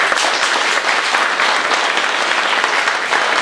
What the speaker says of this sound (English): I think that deserves a round of applause for me.